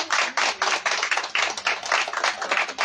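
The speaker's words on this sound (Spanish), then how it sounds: "Dale un fuerte aplauso al Señor" Rapid, steady clapping from a congregation during a church service, dense hand claps close and continuous with no talk over them.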